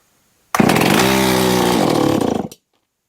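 A Stihl MS311 chainsaw on half choke fires and roars for about two seconds, loud and close, revving raggedly before cutting out abruptly into silence.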